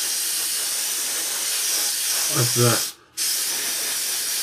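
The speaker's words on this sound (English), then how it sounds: "we're just going to spray the entire inside area" Steady airbrush hiss of pre-thinned paint sprayed inside the fuselage of a 1/32 scale Trumpeter AV-8B Harrier model kit, continuous and close, with a few spoken words over it and a brief cut-out near the end.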